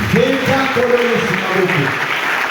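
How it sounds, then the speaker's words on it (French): A church congregation applauds for Jesus in a steady clapping roar, while a voice speaks loudly over the crowd the whole time. "Acclame très fort pour Jésus"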